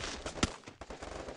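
Rapid gunfire crackles in the Free Fire mobile battle game, a dense burst of several sharp shots in quick succession, loud and close against constant game noise.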